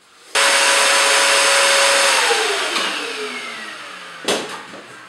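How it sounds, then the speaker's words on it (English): Vacuum cleaner switching on abruptly and running with a loud steady whine while cleaning sanded wood surfaces, then powering down with a falling pitch and a brief bump near the end. "After sanding, I've very carefully vacuumed off the surfaces that I'm going to apply the oil to"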